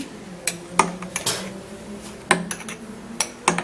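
A spoon stirs honey into a drink, with sharp metallic clinks against a cup or glass in an irregular series of taps, close and fairly quiet against a low background.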